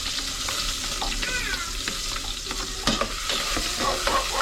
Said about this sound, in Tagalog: Ayan mga kanaypi, gisa-gisa muna tayo